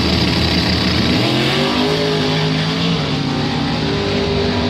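Doorslammer drag racing cars roar loudly and continuously down the strip, engine tones rising in pitch as they accelerate hard, with dense crowd-level noise throughout and no voices.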